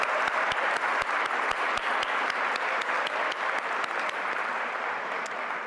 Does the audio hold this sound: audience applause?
yes